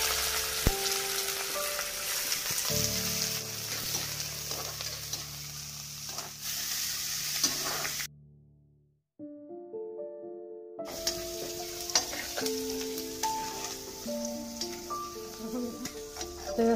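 Onions frying and being stirred in a pan of hot oil with panch phoron spices, a steady loud sizzle with scraping stir sounds, broken by a short near-silent gap before the frying resumes under background music tones.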